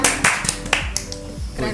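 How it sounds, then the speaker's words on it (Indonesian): A small audience clapping at an Indonesian talk event welcoming guests, a few scattered sharp claps rather than sustained applause, close and brief, with a faint hum underneath. "Tepuk tangan dulu."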